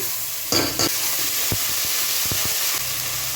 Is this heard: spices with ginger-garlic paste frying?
yes